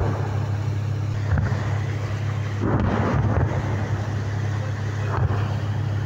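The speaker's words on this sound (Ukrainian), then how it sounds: "Під звуки ворожої артилерійської канонади" Enemy artillery cannonade rumbles in the distance near the Dnipro river crossings in the Kherson region: several dull booms break through a steady low hum, spaced a second or two apart.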